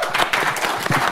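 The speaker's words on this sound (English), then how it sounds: "can I have a round of applause, please?" Audience applause closing a talk on China's hyper-casual game market, a dense burst of many hands clapping at close range, steady and fairly loud for about a second.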